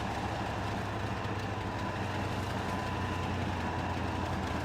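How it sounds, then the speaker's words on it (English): A damaged, steaming and smoking truck engine in the off-road driving game SpinTires runs steadily, a continuous low idling drone with a rough mechanical hum that stays at an even loudness throughout. "You hear the engine sounds different now that we got a good bit of damage on it"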